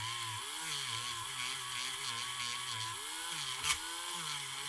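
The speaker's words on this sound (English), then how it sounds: "So I'm going to go ahead and dremel this out a little bit with my burr here, my smaller burr." A Dremel rotary tool with a small burr grinds in a high, whining buzz that dips and recovers in pitch as it bites into the work, with one brief louder scrape near the end.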